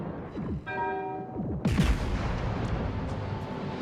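Main guns of the Großer Kurfürst battleship in World of Warships fire in a heavy salvo, a loud booming blast that rolls on into a long rumbling tail over steady engine and sea noise.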